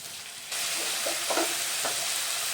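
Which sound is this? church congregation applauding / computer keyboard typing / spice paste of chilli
spice paste of chilli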